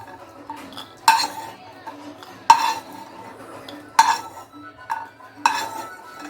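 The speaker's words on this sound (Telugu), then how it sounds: "ఈ వాల్నట్ కూడా కొంచెం వేగాలి." Walnuts roasting in a pan for dry fruit laddu, stirred with a metal spoon: four sharp clanks against the pan at regular intervals over a soft background of scraping and stirring.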